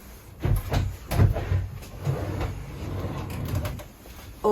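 Under-bed drawers in a van conversion sliding open and shut, a few rumbling slides with hollow wooden knocks and thuds, close and moderately loud with no talking.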